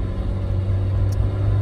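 Chevy C20 rat rod truck engine idling nearby, a deep, steady rumbling drone with a slightly lumpy pulse, loud and continuous without any talk.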